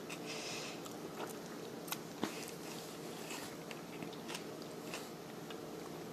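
Quiet, close biting and chewing of a leafy green keto snack, soft crunches repeating in an irregular rhythm with a couple of sharper bites, no talking.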